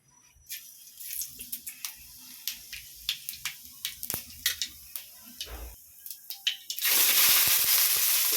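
Fennel seeds dropped into hot oil in a home kitchen pan for mushroom thokku, giving scattered sharp ticks and crackles that build into a loud, steady sizzle near the end.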